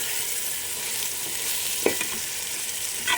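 Chicken curry with leg pieces sizzling in a pan while it is stirred, a steady frying hiss with a few clear scrapes of the spoon against the pan, and no talking.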